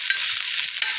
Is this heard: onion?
yes